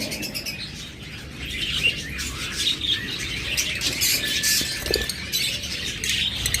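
A single male lovebird or budgerigar in a breeder's cage setting, giving high, thin chirps and twitters over a constant busy background of other birds chattering nearby, with no voices.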